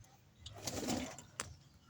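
Pet birds coo softly close by in a low, rolling phrase, with a faint rustle of movement against a quiet background.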